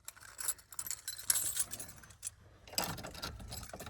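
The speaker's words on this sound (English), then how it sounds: "get the key here." Car keys for a 2000 Ford Crown Victoria police interceptor jangle close up in bright metallic clinking bursts, rising and settling in irregular waves with no talking.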